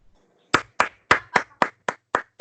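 Seven sharp, evenly spaced hand claps from a small group of listeners applauding Vitor during a class on advertising copywriting, close and crisp with no talk.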